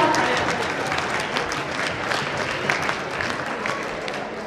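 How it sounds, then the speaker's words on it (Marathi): A crowd claps steadily at a chess tournament prize ceremony as under-10 winners gather on stage, the applause dense and sustained throughout. "टाळ्या."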